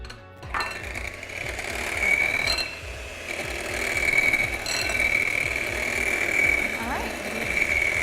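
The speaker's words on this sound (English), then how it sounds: "we'll have Megan take our hand mixer and really blend it together." An electric hand mixer whirs continuously as it blends mashed cauliflower with milk, a steady high motor whine with rhythmic churning and clatter against the bowl, while people talk over it.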